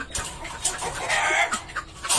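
Chickens clucking in short bursts, fairly close, with a flock's scattered calls overlapping against a noisy outdoor background.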